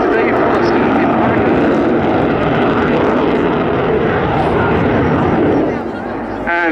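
Aircraft engines roar loudly and steadily overhead as a formation breaks apart at the RAF Cosford air show, the broadband noise holding for several seconds before easing near the end as a voice speaks.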